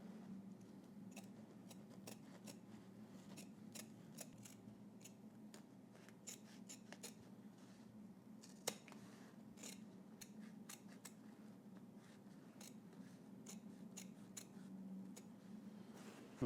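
Scissors trim the sewn seam where a sleeve attaches to the fabric, a long run of quiet, crisp snips in an irregular rhythm, close but faint, with a low steady hum beneath and no talking.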